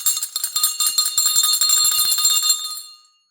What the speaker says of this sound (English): This is an actual school bell used at this schoolhouse.